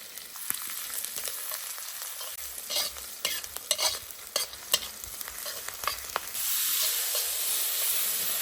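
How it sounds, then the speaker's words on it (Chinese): Ginger, garlic and dried chilies stir-fried in reused frying oil in a wok: rhythmic spatula scrapes over a soft sizzle, then a louder, sustained burst of hissing frying near the end. "然后再姜蒜、干辣椒爆香，再把它下去。"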